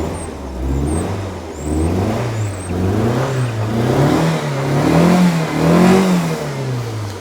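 A rare Proton Impian GSX engine, with 71,350 on the clock and not firing well, runs close by with a rough, wavering drone that rises and falls in slow revs, and no one speaks.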